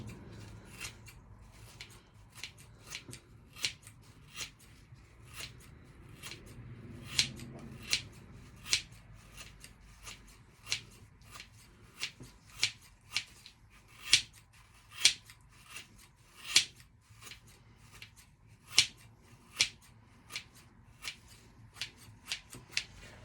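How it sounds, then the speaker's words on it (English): Sharp scissors snip repeatedly at paintbrush bristles in a workshop, a long series of crisp, close metallic clicks and cuts at an uneven rhythm, with faint background noise between them. "I'm trying to cut, and these are really good scissors, but it's just moving the bristles out the way as opposed to chopping them."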